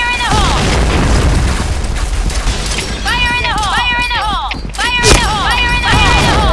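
An explosion booms in a shooter video game amid gunfire and game effects, with a sharp blast standing out near the end, while players talk over it throughout.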